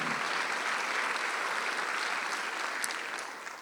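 A church congregation at a Sunday worship service claps together, dense continuous applause that holds steady before gradually thinning out toward the end, with no speech over it.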